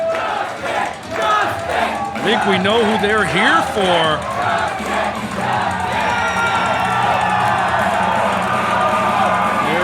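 Large crowd at a live ICW wrestling event cheering and shouting loudly and steadily as a wrestler heads to the ring, with an announcer talking over the noise.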